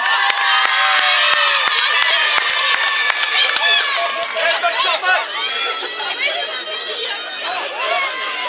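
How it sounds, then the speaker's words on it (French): Crowd at a live wrestling match cheering and shouting loudly, many voices overlapping in a dense roar that softens slightly midway, with scattered claps underneath. "Senza Volto, on peut l'applaudir."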